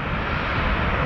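A Boeing 737-900 jet airliner on an airport runway gives off a steady, loud engine roar, briefly and without talk.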